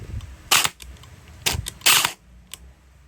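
An A&K AK74 gel blaster toy gun with a DIY MOSFET install fires in short sharp bursts, three loud clusters of rapid snapping shots close by, with a fainter single pop near the end.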